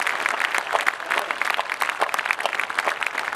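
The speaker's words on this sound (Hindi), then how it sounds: "तो फिर जोरदार तालियों का आकाश एक उठाइए आप" An audience at a kavi sammelan poetry recital bursts into loud, sustained applause, dense crackling claps filling the room steadily with no voice on top.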